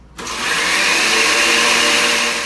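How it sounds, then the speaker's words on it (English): A kitchen blender whirs at full speed, blending pesto ingredients with sunflower seeds in a traditional Italian home recipe, as a loud steady roar that starts abruptly and runs unbroken with no talk. "we can start doing our first blend"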